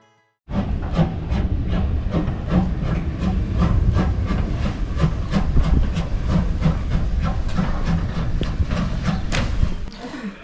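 A heritage railway train on the Great Central Railway runs close by with rhythmic clickety-clack of wheels over rail joints and a steady hiss, starting abruptly and fading at the end.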